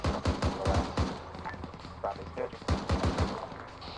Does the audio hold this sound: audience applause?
no